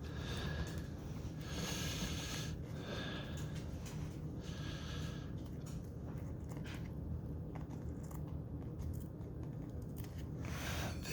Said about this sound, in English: I'm going to cut it like this. Oh, I keep using those scissors.